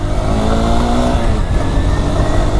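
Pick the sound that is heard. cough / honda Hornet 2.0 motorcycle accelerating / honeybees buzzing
honda Hornet 2.0 motorcycle accelerating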